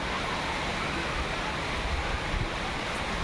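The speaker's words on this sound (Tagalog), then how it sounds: "may hangin pa oh" Strong, steady wind roars against the microphone, a dense, continuous rush with no clear breaks.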